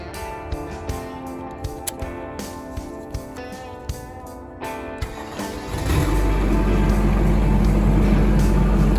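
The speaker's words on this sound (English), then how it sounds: "And now I can start the tractor." Tractor engine cranking with rhythmic clicks and rattles, then catching and settling into a loud, steady low running rumble.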